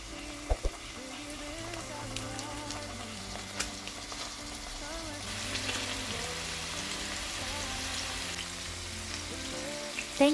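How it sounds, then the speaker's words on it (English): Pork fillet medallions fry in a pan with a soft, steady sizzle, heard faintly beneath background music. "Fry the medallions for about 2 minutes on each side until they are golden brown."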